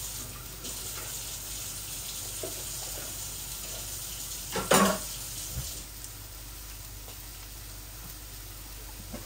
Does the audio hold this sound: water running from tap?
yes